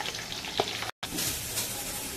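Sliced onions fry in oil with whole spices and green chilies, making a soft, steady sizzle with stirring scrapes, a brief clank, and a short cut to silence midway.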